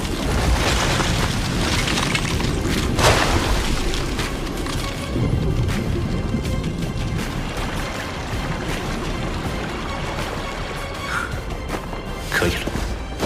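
A hail spell explodes in the Soul Land 2 animation with a loud, sustained roar of booming, crashing impacts and rumbling debris. Sharp cracks and bursts break through the continuous blast.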